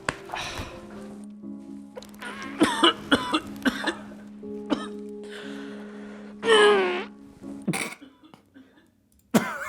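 Repeated harsh coughs and throat-clearing come in bursts, some loud and close, separated by short pauses with faint background hum.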